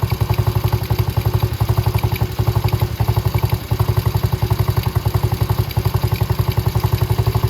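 A Venom Madix 125cc ATV engine idles low and loud up close, a steady fast chugging pulse with metallic clatter and no voices.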